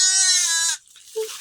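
Lambs bleat at a hillside sheep pen in a Nepali village, one long wavering bleat filling the first half, then a brief quieter call after a pause, close and loud.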